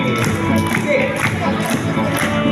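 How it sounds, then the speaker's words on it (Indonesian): A crowd of children claps and cheers together at a storytelling event, a loud steady wash of applause and shouting with voices mixed in throughout. "Yuk tepuk tangan."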